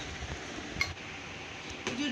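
A thick new steel kadai is handled, giving a few faint metallic clinks and knocks over a low, constant room hiss.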